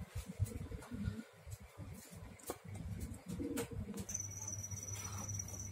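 A large pet bird in a cage coos repeatedly in low, soft phrases, with a steady hum and a faint high whistle in the background.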